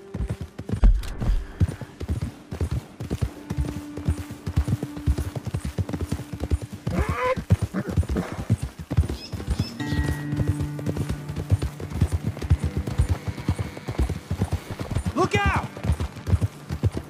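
Horses' hooves clip-clop steadily on a trail in the video game Red Dead Redemption 2, a close rhythmic patter running throughout under men's conversation, with a brief neigh or snort.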